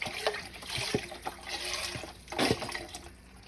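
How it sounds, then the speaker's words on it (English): Four cups of broth pour into a soup pot, an uneven close-up gurgling and splashing with a louder surge near the end, then tapering into a soft trickle. "So now we're going to add 4 cups of broth"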